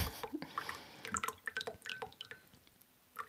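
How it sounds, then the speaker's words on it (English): Tea trickles and drips into a cup in a short, close, quiet pour with small splashy plinks, no talking. "Because I'm pouring my tea."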